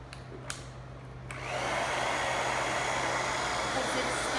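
A few light clicks and handling sounds come first, then a blower switches on and runs in a loud, steady whoosh while drying a wet, refurbished craft piece.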